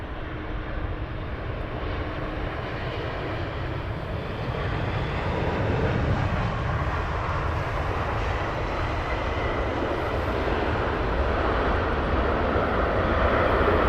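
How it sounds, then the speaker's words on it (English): A Boeing 787 Dreamliner jet airliner at Heathrow Airport gives a steady, broad engine roar that swells gradually louder, heard from a distance outdoors with no talking. "Another Dreamliner."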